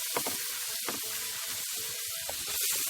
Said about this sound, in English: I'm going to add some water now